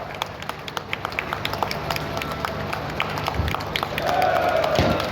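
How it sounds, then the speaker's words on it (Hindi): A crowd of farmers at an outdoor political rally claps and applauds, a steady patter of many hands with crowd noise, ending in a brief high-pitched cheer or whistle. "किसान सभी खड़े होकर के तालियां बजाकर जोरदार स्वागत करें"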